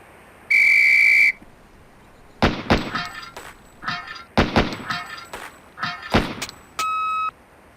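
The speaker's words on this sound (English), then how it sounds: "On the whistle." A sharp, loud whistle blast starts a shooting drill in the Police Quest: SWAT video game. A string of sharp gunshots and metallic target hits follows in quick clusters, and a shorter tone closes the sequence.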